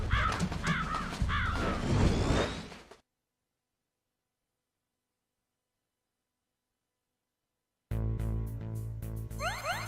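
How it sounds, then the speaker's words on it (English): A raven in the video game Metal Gear Solid caws several times, loud and close, against game ambience. A stretch of silence follows, then game music and effects resume. "Yes, the raven on my head. It thirsts for his blood."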